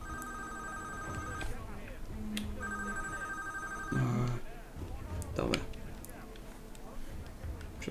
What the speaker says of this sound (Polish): Przepraszam was na chwilę, telefon dzwoni.